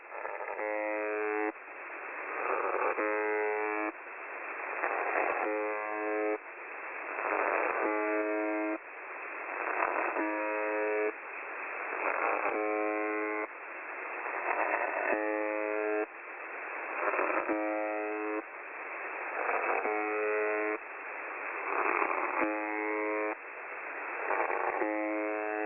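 Russian shortwave buzzer station signal: a loud, harsh, steady buzz pulsing in regular bursts about every two seconds, with brief gaps between, heard alone over a thin radio hiss.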